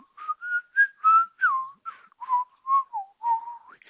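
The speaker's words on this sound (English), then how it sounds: "I can whistle like this" A person whistles a short, bouncy tune of about a dozen clear notes, close and solo with no other sounds.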